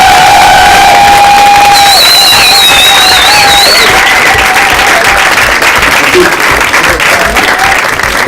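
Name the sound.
audience applause and cheering at comedy club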